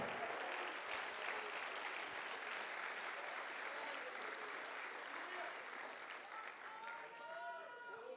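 A church congregation applauds during an evening sermon, a dense continuous wash of clapping from a large crowd that holds steady for eight seconds and thins slightly near the end, with voices blended in.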